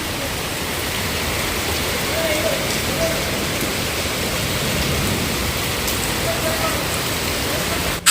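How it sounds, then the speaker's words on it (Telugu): Heavy rain pours down steadily, a dense, loud, continuous hiss of water across the whole stretch with a few faint tones underneath. "చాలా పెద్ద వర్షం పడుతుంది."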